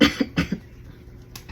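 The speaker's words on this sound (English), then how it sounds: "I had to clear my throat" A person clears their throat in a quick burst of rough, cough-like grunts, close by, then a brief pause before another short one.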